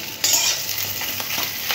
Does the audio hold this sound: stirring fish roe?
yes